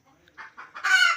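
Chickens from a flock of about a hundred give a few short clucks close by, rising quickly into a louder, drawn-out call.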